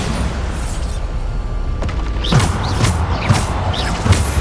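Bombarda spells go off in Hogwarts Legacy combat, several booming blasts with crashing impacts spaced a second or so apart over a low rumbling background.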